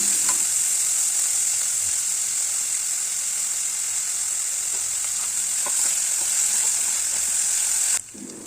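Chopped onion with salt sautéing in oil, a loud steady hiss of frying with faint stirring scrapes, close by, cutting off sharply near the end.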